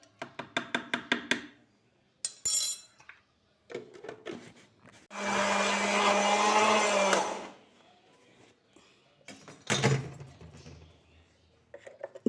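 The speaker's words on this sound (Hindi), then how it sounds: "इसको हम मज़ीद ग्राइंड करेंगे।" Electric grinder churning soaked lentils into dahi bhalle batter: short stuttering pulses of the motor, then one steady loud grind lasting about two seconds, followed by more brief bursts.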